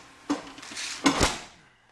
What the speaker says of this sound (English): put the piece of paper in the door and shut it. Of course, I gotta shut it hard.